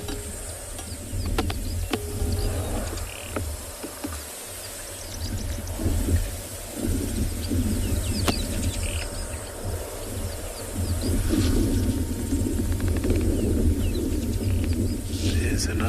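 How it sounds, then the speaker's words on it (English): Birds call at sunset in the South African bush, faint scattered chirps within a dense, steady wash of insect and ambient noise, with quiet speech now and then. "Just listen to the birds calling."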